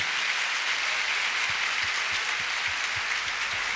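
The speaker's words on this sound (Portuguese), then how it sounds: "desse uma salva de palmas a esse Senhor que é maravilhoso" A church congregation applauds in praise, a dense wash of clapping that starts abruptly and holds steady at close range, with faint rhythmic low thumps beneath it.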